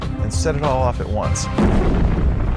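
A voice speaks briefly, then a deep rumbling blast of explosion noise rolls in and fills the rest of the moment.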